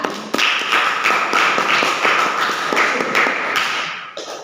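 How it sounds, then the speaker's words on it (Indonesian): A class group gets applause after presenting in a classroom: a short round of clapping with distinct, steady rhythmic claps, fairly close and bright, fading out after about four seconds. "Tepuk tangan untuk kelompok 3"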